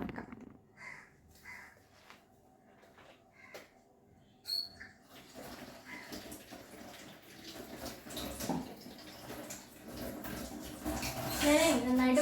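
Water pouring into a bottle outdoors in a village setting, a faint running trickle that grows louder and rises in pitch as it fills, with birds and light background noise around it.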